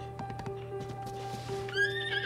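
A horse whinnies with a high, wavering neigh near the end, over a steady tonal background hum and scattered hoof clicks, in the video game Zelda: Tears of the Kingdom at Castle Town Ruins.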